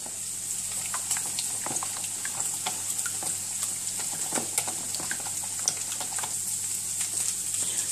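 Two eggs whisked in a deep bowl, a steady stream of light rapid clicks and liquid slaps close by, continuous and even, with no talking.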